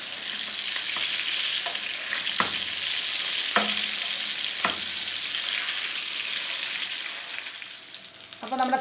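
Beef steak fries in butter in a pan with a constant bright sizzle, broken by a few sharp taps of a utensil against the pan, close and with no talking.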